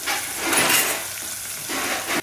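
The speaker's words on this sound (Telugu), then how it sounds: "ఆ తర్వాత కరివేపాకు ఆ తర్వాత ఉల్లిపాయలు వేసి బాగా ఇలా కలిపేద్దాము" Onions and curry leaves fry in a pan for ridge gourd curry, making a close, continuous sizzle broken by rhythmic stirring scrapes that swell and fade.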